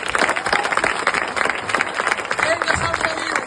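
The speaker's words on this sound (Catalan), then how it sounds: "permeteu-me que el darrer aplaudiment, n'heu fet uns quants, sigui el nostre sant" Festa major crowd in Sant Feliu de Buixalleu clapping for Saint Felix, a brisk, loud patter of many hands with scattered shouts throughout.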